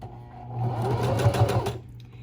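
A sewing machine runs steadily, stitching a fabric face mask with a continuous close motor hum and rapid needle rhythm, then stops near the end.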